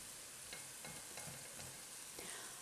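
Garlic frying in a pan for a one-pot lunch, a steady loud hiss of sizzling oil with soft rhythmic scraping and stirring taps throughout, no voices.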